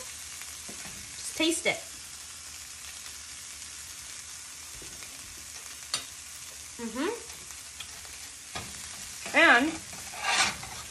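Veggie fried rice is stirred in a hot pan, with a continuous low sizzle and several scraping, clattering strokes of a spatula spread across the stretch, and a voice speaking briefly.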